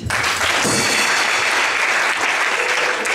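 A church congregation applauds and cheers for the Lord, steady dense clapping filling the room for the whole stretch without a break.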